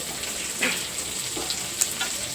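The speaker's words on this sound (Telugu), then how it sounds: "దీంట్లోనే మనం ఉల్లిపాయ ముక్కలు కూడా వేసేసుకోవాలి" Thinly sliced onions fry in oil for a pulao, giving a steady, close hiss of sizzling with a few faint scrapes or pops scattered through it.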